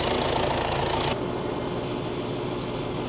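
A farm tractor with a hay chopper hooked up idles steadily outdoors, a loud continuous engine rumble that drops to a quieter, lower drone partway through, with no voices.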